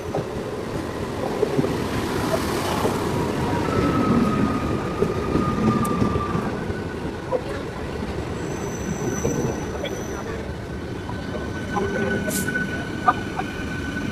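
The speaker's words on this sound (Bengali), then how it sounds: "তো ট্রেন টেন চলে গেল" A Sealdah local train passes through a station: a steady close rumble of wheels on rails with high metallic squeals drifting in and out for the full length, and no talking.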